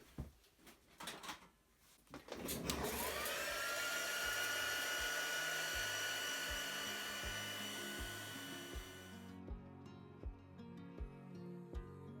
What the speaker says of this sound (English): we'll just give that a blast on the heat gun